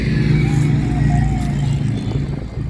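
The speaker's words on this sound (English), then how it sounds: "Motorcycles." Motorcycles passing by outdoors, a steady mid-distance engine drone that swells and slowly fades, with faint background music.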